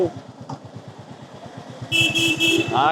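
A motorcycle engine putters throughout on a busy street in Maredpally, then its horn honks in a few short bursts while overtaking near the end, fairly loud and close.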